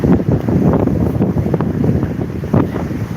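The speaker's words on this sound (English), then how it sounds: "It is very windy. Very, very windy right now." Strong wind from Hurricane Nicole in Florida buffets the microphone under a bridge in a continuous low roar, with gusts swelling and easing, and faint water sounds beneath.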